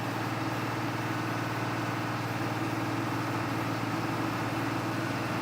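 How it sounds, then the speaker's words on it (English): A vehicle engine running steady and fast as if over-revving, a constant dense drone with no breaks, close and moderately loud, with no voices over it. "Listening to it, it sounds like damn thing's over revving."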